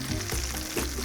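Garlic and onions fry in a pan for a Spanish tortilla, a steady close sizzle with a low hum and a couple of soft bumps, no voices.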